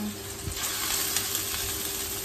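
Tofu frying in oil in a Korean Edelkochen stainless steel 304 pan on a stove, giving a steady close sizzle with faint crackles, heard alone.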